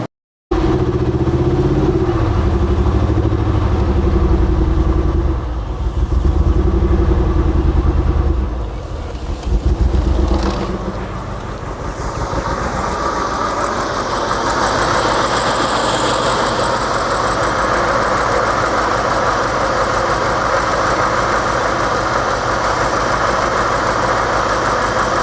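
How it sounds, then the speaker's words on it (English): A BMW E60 550i with a manual gearbox runs with its engine idling, a steady, loud, rough rumble that shifts in tone around the ten-second mark and then holds an even drone with no talk. "car's running"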